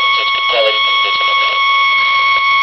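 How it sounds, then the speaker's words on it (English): A Radio Shack TCR-200 cassette recorder gives off a loud, steady, high-pitched malfunction beep that runs unbroken through the whole stretch while someone talks over it. "That weird long beep noise was a malfunction somewhere."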